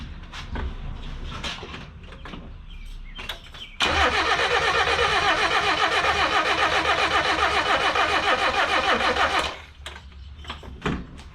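A Ford Festiva engine fitted with a swapped-in Weber carburetor cranks in one long, loud, continuous burst lasting several seconds, framed by clunks and handling noises before and after.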